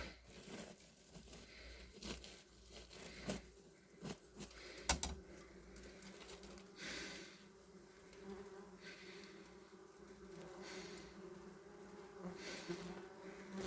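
Wasps in large nests in an attic buzz steadily and densely at close range, with sharp scraping and tapping knocks cutting through the continuous hum.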